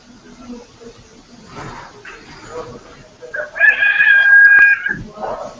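A rooster crows loudly nearby, a long strained call, with a few softer clucks and rustling before it.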